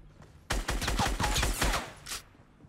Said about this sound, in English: I'm gonna shotgun him in the face.